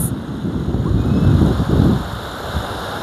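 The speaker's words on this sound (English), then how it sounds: "Look at the waves. The waves are forming." Ocean waves at Kenyatta Beach in Mombasa, Kenya, roll and wash in a steady broadband roar, swelling briefly in the middle, mixed with gusty wind buffeting the microphone.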